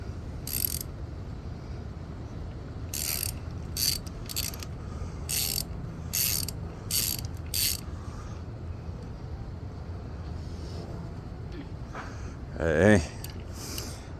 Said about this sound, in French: Quand c'est le temps de serrer, tu le prends au bout du ratchet.